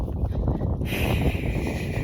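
Outdoor wind gusting into the microphone near horses, a dense low rumbling buffet that stays loud and constant across the whole short stretch.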